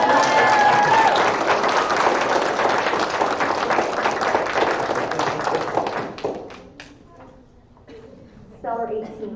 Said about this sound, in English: Can we just give them a round of applause?